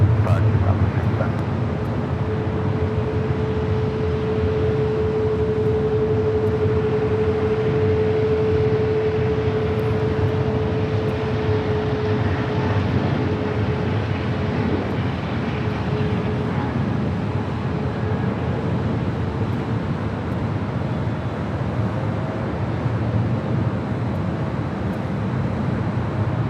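An Emirates jet takes off from runway 24 left at LAX, a steady, loud broadband engine roar with a faint tonal whine, lasting throughout with voices audible faintly at times.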